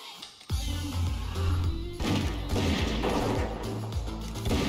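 World of Warcraft hunter trap and shot abilities going off in quick succession, a sudden loud impact followed by dense crashing and shooting effects layered over low game music, with no talk.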